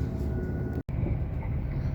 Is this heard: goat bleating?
no